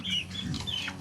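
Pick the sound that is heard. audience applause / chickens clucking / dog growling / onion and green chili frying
chickens clucking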